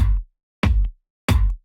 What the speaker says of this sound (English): So the kicks soloed sound like this.